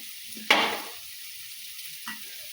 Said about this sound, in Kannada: ಈಗ ಇದಕ್ಕೆ ಅಲಸಂದಿ ಕಾಳು ಹಾಕ್ತೇವೆ ನೋಡಿರಿ